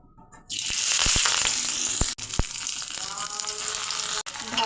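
Gourd leaves dropped one by one into hot mustard oil set off a loud, steady sizzle that starts abruptly and holds, with a few sharp spatters and crackles over the frying.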